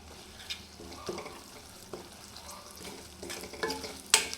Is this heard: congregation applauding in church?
no